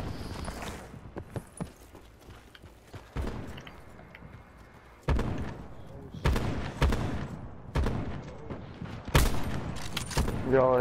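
Sniper gunshots in the video game Call of Duty: Black Ops 4, a handful of sharp, loud cracks spaced irregularly over quieter game noise, with players talking between shots.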